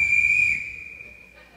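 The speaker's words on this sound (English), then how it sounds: "I thought it was more appropriate for Jeffrey if I blow my whistle." A single sharp referee-style whistle blast at a school Christmas program, shrill and loud for about half a second before fading into a quiet room.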